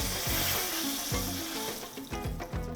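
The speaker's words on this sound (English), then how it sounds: "you could let it fry just a little bit, but you might want to remove it from the fryer" Cherry-filled mini empanadas deep-frying in a fryer, a loud continuous bubbling sizzle with a few bumps and knocks mixed in, close and without talk.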